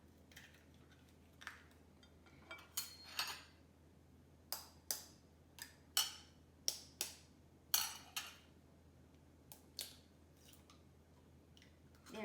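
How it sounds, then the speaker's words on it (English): Two eggs cracked for an egg-based pizza crust: a series of sharp taps and cracks with shell crunches and a few wet squishes, close and moderately loud, alone without talk. "I'm going to be cracking 2 eggs."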